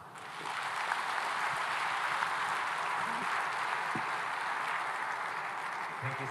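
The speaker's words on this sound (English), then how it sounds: "One more time, a big round of applause for President Ruto." Sustained applause from a large crowd at the Africa Food Systems Forum at JNICC, steady and dense clapping that fills the space throughout without a break.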